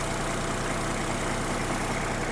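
A Kubota GB-20 Japanese mini tractor's engine runs with its hood open, a loud, steady, close mechanical roar that continues without a break.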